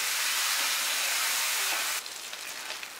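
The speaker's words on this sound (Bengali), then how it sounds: "এবার আমি হলুদ গুঁড়োটা দিয়ে দেব। হলুদ গুঁড়োটা দিয়ে দিলাম, এবার আমি এটা একটু একটু ভালো করে কষে নেব।" Taro stems and prawns with turmeric sizzle and hiss steadily in a pan, a loud, close frying noise that drops and turns softer and patchier partway through, with no voices.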